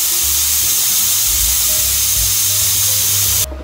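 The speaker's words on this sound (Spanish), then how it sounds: "Dejamos que suelte el vapor y después abriremos." Steam vents steadily from a pressure cooker while tripe with chickpeas cooks, a continuous loud hiss with low rumbling underneath, cutting off abruptly near the end.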